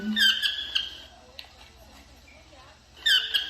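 Toucan calls come as short bursts of squeaky, bright chirps, one cluster at the start and another near the end, with a quiet stretch between them.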